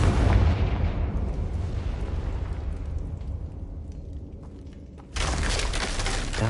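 A Confringo spell explosion in a video game sets off a loud, broad boom that rumbles and slowly decays for several seconds, followed by a second sharp burst of noise near the end.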